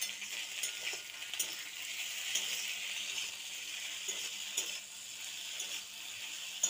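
Spiced vegetable macaroni being stirred in a pan, a quiet steady sizzle with light, regular scraping strokes and occasional soft clicks throughout.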